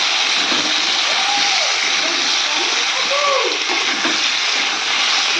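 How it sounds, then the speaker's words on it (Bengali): Food fries in oil in a pan with a loud, steady sizzling hiss throughout, while a faint voice sounds in the background. "আর এটা ভালো করে ভেজে নিই, তারপরে মশলা দেবো"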